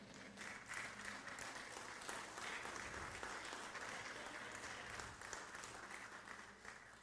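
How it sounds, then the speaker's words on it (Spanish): Congregation applauding during a church sermon, a steady sustained wash of many hands clapping for about seven seconds, moderately distant with room reverberation and no clear talk over it. "Dale un aplauso al Señor."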